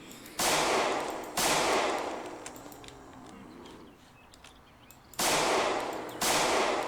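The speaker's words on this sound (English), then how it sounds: "That's too many shots." Gunfire in the video game Project Zomboid: four loud, abrupt bursts of shots, two early and two near the end, separated by a quieter stretch of background noise.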